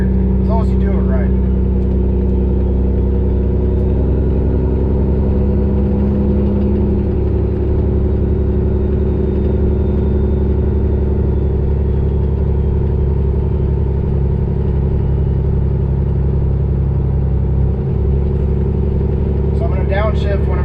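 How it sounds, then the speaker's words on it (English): A truck engine with a 10-speed transmission drones steadily as the driver floats gears, with the revs rising and falling between shifts. It stays loud and close throughout, and speech sounds over it at the start and end. "as soon as I pull it out of gear, give it fuel to raise the RPMs, and then it kind of sinks into gear"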